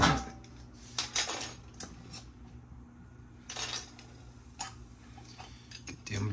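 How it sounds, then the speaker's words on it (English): Metal lids set onto glass canning jars of potatoes, heard as scattered close clinks and taps with quiet pauses between them. "All right, so getting our lids on here"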